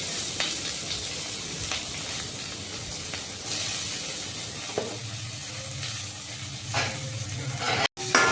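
Chopped onion and green chilli tipped into a hot pan with turmeric, a loud sustained sizzle with bursts as pieces hit the oil and a spoon stirring, ending in a sharp knock.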